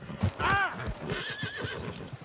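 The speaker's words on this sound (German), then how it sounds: "Ach, das Pferd soll das Maul halten." A horse in the video game Red Dead Redemption II whinnies loudly up close, followed by a second, longer wavering neigh, with faint hoof clops underneath.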